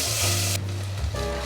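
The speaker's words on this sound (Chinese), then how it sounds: "油热了，把刚刚打好的黄姜放进来， 把香料炒香。" Blended turmeric and spices hit hot oil in a wok and sizzle loudly and steadily, close up, with a brief shift in the hiss partway through as the paste settles.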